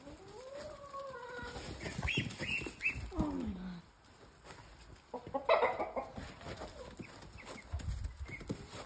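Backyard chickens cluck and squawk at close range, with bursts of agitated calls and rustling amid quieter pauses over a faint steady hum.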